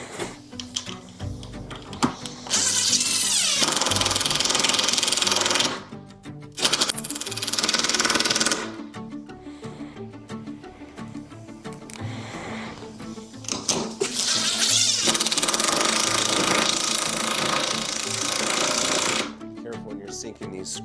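A power drill or driver sinks screws into pressed wood while mounting an OMP bow vise, with several loud sustained bursts of whirring motor separated by brief pauses and handling noise.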